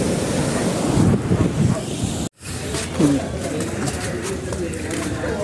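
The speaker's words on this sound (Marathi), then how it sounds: "लाटा कसल्या आहे त्या भयानक लाट आहे त्या" Steady roar of high-tide ocean waves in Goa with wind buffeting the microphone, a brief dropout midway, and people talking over the surf throughout.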